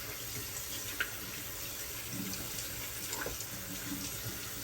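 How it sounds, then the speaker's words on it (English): A bathroom tap runs steadily into a sink as shaving soap is rinsed off hands. The quiet, continuous splashing stays close, with small hand splashes and no talking. "rinsing it off my hands."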